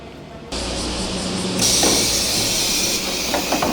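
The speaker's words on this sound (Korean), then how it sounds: "7시 5분 기차를 타고 고토히라로 갑니다." A train departing a station for Kotohira on a summer morning, a sudden loud rush of rolling noise and hissing air starting abruptly and swelling as it pulls away, broad and steady, with no talk.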